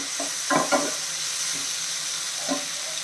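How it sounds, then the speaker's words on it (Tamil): Tomatoes sizzle in a hot pan for sambar while a spatula scrapes and stirs in a few quick strokes, then once more a moment later. "தக்காளி சேர்த்து நல்லா வதக்கிடலாம் உப்பு சேர்த்துடலாம் வதங்கிட்டோம்"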